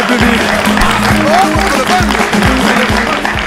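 Studio audience applause on a French TV game show, a steady dense clatter of many hands, with music playing underneath throughout.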